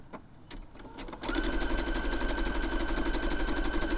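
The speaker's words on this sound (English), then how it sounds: "you're going to be zigzagging between the stitch line and the finished edge" A sewing machine runs a zigzag stitch down the finished edge of tote bag fabric. A few soft clicks come first, then a steady, close, continuous whirring hum with fast rhythmic needle ticking.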